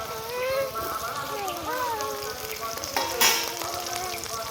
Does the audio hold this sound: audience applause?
no